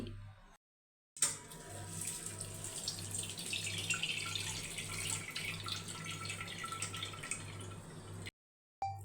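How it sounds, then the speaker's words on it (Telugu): Thin flattened rice (poha) is rinsed in water, giving a soft, steady splashing and trickling close by, with a brief quiet gap at the start and end. "1/2 కప్ పల్చని అటుకులు తీసుకొని వీటిని ఒకసారి శుభ్రంగా వాష్ చేసుకోండి"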